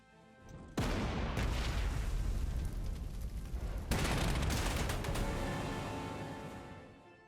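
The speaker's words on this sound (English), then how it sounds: "Artillery." Artillery fire in the strategy game Panzer Corps 2, two heavy booming blasts a few seconds apart, each followed by a long rumbling decay that fades out slowly.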